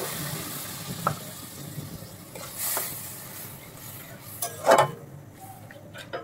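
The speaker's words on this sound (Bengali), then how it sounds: "আমার এখন মনে হচ্ছে একটু পানি যোগ করতে হবে, এই জন্য আমি একটু পানি গরম করে রেখেছিলাম, সেই পানিটা এখানে অল্প করে দেবো" Hot water poured into a pan of dried shutki fish frying in masala, the steady sizzle flaring into a brief louder burst of bubbling and hiss, with faint stirring clinks earlier.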